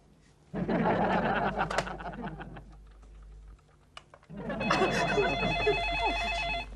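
Clattering and tapping give way to a telephone ringing in a steady electronic pattern that continues to the end, heard indoors in a domestic comedy scene.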